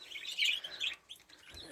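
Budgies, canaries and zebra finches in an aviary chirp and tweet in quick, overlapping bursts, a soft high twittering chorus with short pauses and no voices.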